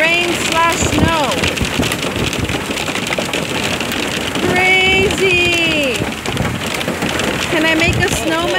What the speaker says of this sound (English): Wow, look at all that hail.